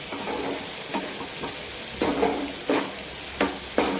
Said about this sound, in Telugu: అల్లం వెల్లుల్లి పేస్ట్ వేసిన తర్వాత పచ్చివాసన పోయే వరకు అయితే వేపుకోవాలి